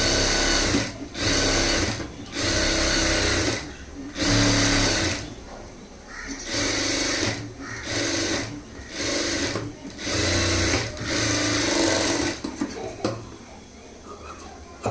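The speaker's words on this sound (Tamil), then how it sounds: "இப்போ நம்ம லைனிங் கிளாத்தையும் மெயின் கிளாத்தையும் ஜாயின் பண்ணுறதுக்காக சுற்றி வச்சு போட்டுடலாம்" Sewing machine stitching lining cloth to the main fabric of a blouse, whirring in loud bursts of a second or two separated by short stops, close and alone.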